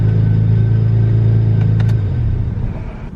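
A Nissan 350Z engine, run without coolant and lean, idles with a loud, steady low rumble close by that eases slightly toward the end.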